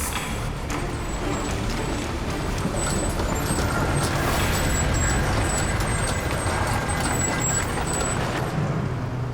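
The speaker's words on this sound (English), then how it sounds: "I'm gonna keep pulling out the tractor." A semi tractor truck on a highway recovery scene pulls out with a steady, loud diesel engine rumble and a high hissing air tone, continuous for several seconds.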